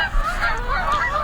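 A small skein of Canada geese honking in a recreated recording, several overlapping nasal honks close and clear over a low background hum.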